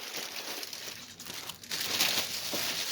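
A plastic bag around a craft package holding a pre-stamped cross stitch kit and diamond painting kit is cut and pulled open, giving close, loud crinkling and rustling that swells in the second half with no talking.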